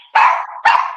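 A dog gives two close, loud barks in quick succession, heard outdoors with no talking.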